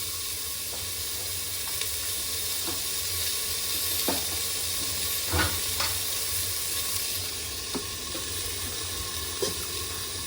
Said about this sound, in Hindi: अब इसके अंदर हम डालेंगे गरम पानी।